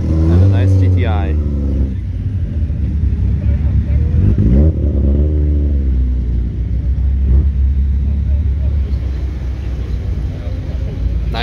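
A Volkswagen GTI drives past at the Nürburgring, its engine note loud and close as it sweeps by, followed by another surging pass and then a steady, lower rumble of traffic.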